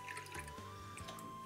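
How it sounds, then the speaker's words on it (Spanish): Water is poured from a tap to fill a glass in a home kitchen while eggless pastry cream is being prepared, giving a steady close trickling and splashing that runs the whole short moment. "Voy a llenar este vaso."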